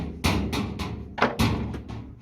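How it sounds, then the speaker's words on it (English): Irregular loud bangs and dull thuds from someone knocking around Whirlpool/Maytag washing machines, several sharp hits spread unevenly, close by with no talking. "My daughter's here banging around the washers."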